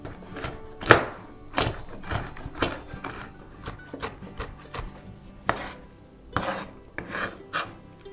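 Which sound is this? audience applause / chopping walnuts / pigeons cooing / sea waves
chopping walnuts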